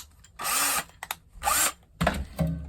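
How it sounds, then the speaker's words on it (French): A power drill boring a hole with a 5 mm bit while building a gold-panning sluice, three loud close whirring bursts separated by short pauses, alone without talk. "je vais percer à 5, hein, pour pas tarauder, je vais mettre un écrou derrière"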